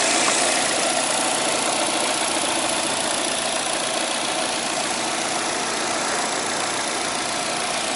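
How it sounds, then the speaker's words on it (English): Vauxhall Insignia 1.8 SRi petrol engine idling, a quiet, steady hum that stays even and continuous throughout with no revving or voices. "very quiet engine,"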